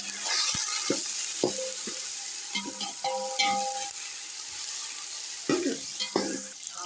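Chicken fries in a pot with lightly browned onions for Kabuli pulao, a loud, continuous sizzle broken by occasional clanks and scrapes of a stirring spoon against the metal.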